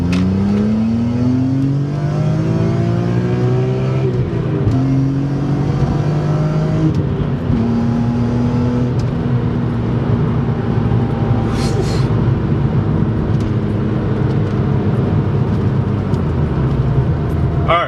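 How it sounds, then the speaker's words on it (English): A BMW E46 M3 engine with an aftermarket intake revs up through the gears, rising exhaust rasp heard from inside the cabin, loud and continuous with brief shift dips. "all I can hear inside the cabin is the exhaust. I hear like the rasp"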